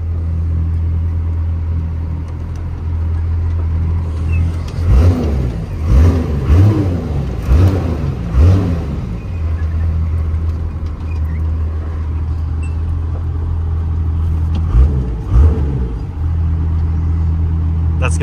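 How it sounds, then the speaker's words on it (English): A truck engine idling with a deep steady rumble while rolling backwards in neutral, then revved several times in quick surges, with a later shorter rev; voices talk over parts of it. "I'm going to be rolling backwards in reverse in neutral and revving the truck a couple times"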